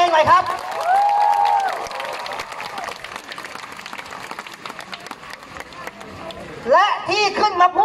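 A crowd at a protest rally outside the Thai parliament at Kiakkai applauds for several seconds in a broad wash of clapping, framed by a loud amplified voice speaking before and after.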